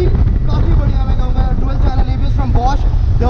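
A Royal Enfield Interceptor 650's parallel-twin engine runs with a steady low rumble throughout, with someone talking continuously over it.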